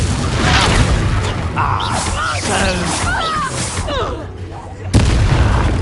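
Confringo fire spell bursts in Hogwarts Legacy, a loud booming blast with crackling debris, followed by another sharp boom near the end; a voice talks over the middle.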